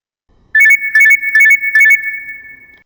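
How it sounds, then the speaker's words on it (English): Loud electronic alarm at a fire station rings in four sharp pulsed bursts of a steady high tone, then holds as a continuous fading tone. "That's the alarm."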